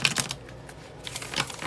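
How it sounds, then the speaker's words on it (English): Thin, flimsy Tarot of Dürer cards being shuffled in a quick, close riffle of crisp flutters that pause briefly and then resume, with no voices. "you'll hear these cards are fairly thin, but they shuffle really well"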